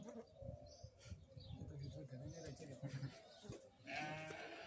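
Sheep bleating among visitors at Al Dosari Zoo in Al Shahaniya, Qatar, short calls rising above steady crowd chatter and nearby talking, with a louder bleat near the end.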